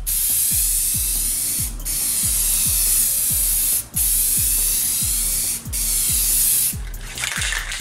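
A spray can of clear coat hisses in long, steady bursts, close and loud, with brief pauses between passes and a soft rhythmic knocking beneath.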